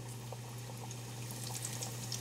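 A venison cutlet sizzles in hot frying oil, a steady bubbling, hissing crackle with a low constant hum underneath and no voices.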